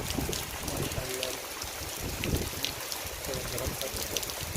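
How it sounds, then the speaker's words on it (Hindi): Heavy rain pours steadily during a thunderstorm, a dense, continuous hiss of drops with faint patters throughout, recorded close by without a break. "बहुत तेज़ बारिश हो रही है"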